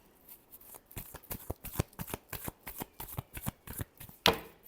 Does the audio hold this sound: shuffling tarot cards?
yes